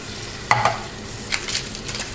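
Coconut milk stirred into Haitian rice and beans with djon-djon in a pot, a faint background sizzle with a couple of clinks and scraping stir strokes, no talking.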